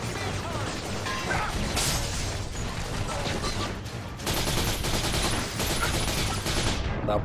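Heavy, nonstop gunfire in the video game The Darkness fills the scene, rapid bursts and crashes layered together, loud and chaotic from start to finish.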